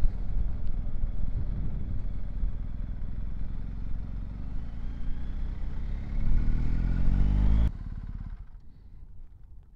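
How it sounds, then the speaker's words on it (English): A 2021 BMW R1250GS Adventure 40th Edition motorcycle being ridden, its engine droning steadily with wind noise, rising in pitch as it accelerates before dropping off abruptly near the end. "this is such an easy bike to ride"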